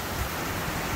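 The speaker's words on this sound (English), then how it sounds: "sure enough, it's just raining like crazy" Heavy rain pours steadily outside a cabin, a dense, even hiss of drops with no pauses, close and fairly loud, with no voices over it.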